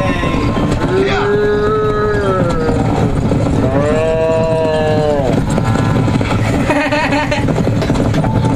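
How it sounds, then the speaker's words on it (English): Cattle in the video game Red Dead Redemption moo loudly and close, two long drawn-out lowing calls with a shorter third, over steady game ambience. "Come on, cows, this way."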